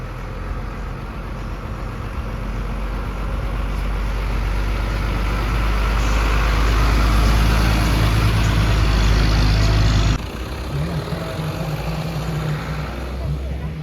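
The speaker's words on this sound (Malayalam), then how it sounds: "വലിയ വണ്ടികളൊക്കെ കയറി വരുന്നുണ്ട് കേട്ടോ, കുഴപ്പമൊന്നുമില്ല." Large vehicles idle and grind up an uphill road, giving a loud, low engine rumble that builds steadily, then drops abruptly to a quieter drone near the end.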